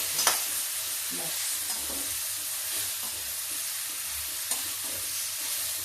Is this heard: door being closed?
no